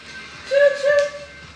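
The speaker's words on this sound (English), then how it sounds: "he's playing his train sound" A toy train sound played from an iPad gives a short two-note whistle toot, moderately loud and close, over low room noise.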